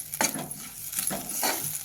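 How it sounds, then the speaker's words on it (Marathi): Masala with chili powder being stirred and sautéed in a pan for a traditional wild okra seed amti, soft sizzling with a few distinct scraping stirs of a spoon, close and fairly quiet. "आता हे तिखट चांगला असा मसाला परतून घ्यायचा"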